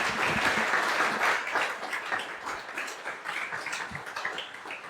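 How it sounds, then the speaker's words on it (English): Sustained round of applause from a conference audience at a programming talk, dense and steady clapping that fills the room and gradually thins toward the end. "just round of applause for"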